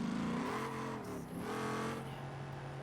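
A quad turbo sequential race car engine in a video game revs high, then dips and climbs again with a turbo whine, steady and fairly close, no voices.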